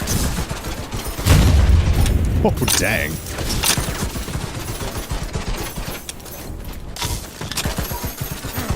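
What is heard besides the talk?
Slug Shot weapon firing in a video game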